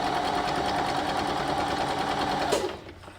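Sewing machine stitching pieces of a nine-patch quilt block at a quarter-inch seam: a steady, close, whirring motor hum with rapid needle clatter, running continuously before stopping abruptly near the end.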